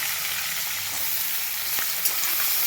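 Raw onions frying in hot oil, an even, dense hiss of sizzling that holds steady throughout, close up, with one faint tap near the end and no speech.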